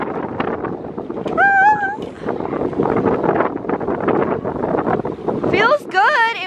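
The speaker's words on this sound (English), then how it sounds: "It's windy" Wind buffets the microphone in a loud, rumbling roar while people talk, and high meow-like squeals break through twice.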